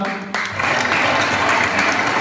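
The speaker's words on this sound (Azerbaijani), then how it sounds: "Alqışlar gəlsin bizim dostumuza." Children and adults applaud a child at a birthday party, a burst of clapping that starts suddenly and carries on as a steady dense patter, with faint voices underneath.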